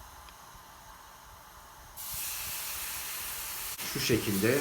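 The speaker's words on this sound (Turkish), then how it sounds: "Şimdi bunun içine birinci umami lezzetini verecek olan beyaz şarap ekleyip deglaze ediyorum." White wine poured into a hot pan while cooking beef stroganoff, setting off a sudden loud steamy hiss that holds steady, followed by scraping stirring sounds; someone speaks briefly near the end.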